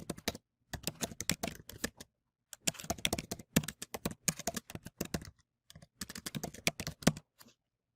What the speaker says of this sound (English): click into the box, and type your reply message